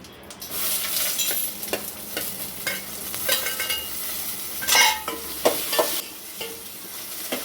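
Ingredients for tomato rasam crackle and sizzle in a hot pan, with close, irregular stirring scrapes and sharp spoon knocks over a steady frying hiss. No one speaks.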